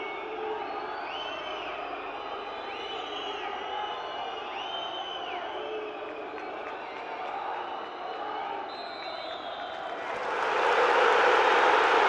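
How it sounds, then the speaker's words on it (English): Crowd at Hampden Park before the Celtic v Hearts match, with a steady murmur and scattered whistles, then a surge of louder booing and jeering toward the end. "Some ill-natured and ill-mannered booing from a small section of Hearts supporters prior to this match getting underway."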